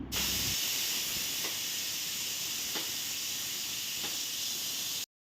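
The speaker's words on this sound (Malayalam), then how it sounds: "നമുക്ക് കുക്കർ അടുപ്പത്ത് വെച്ച് ഇതൊന്ന് വേവിച്ചെടുക്കാം അപ്പോൾ ഒരു വിസിൽ മാത്രം അടിച്ചാൽ മതിയാകും" Steady loud steam hiss from a pressure cooker on the stove while chicken cooks for kurma, continuous with a few faint clicks, no voices.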